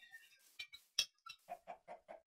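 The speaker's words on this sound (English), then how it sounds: "And another chicken." Chicken in a Minecraft game, with a short series of soft, close clucks and sharp pecking clicks, ending in four evenly spaced clucks, no talking.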